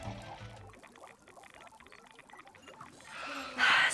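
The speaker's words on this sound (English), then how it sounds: "First you spill my water" Water pours and splashes in a short, loud burst toward the end, following a stretch of busy, clattering background sound.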